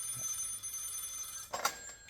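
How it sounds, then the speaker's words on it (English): Telephone bell ringing indoors, a continuous high trill that runs on steadily, then a short louder clatter near the end, with no talking. "It's the bat phone."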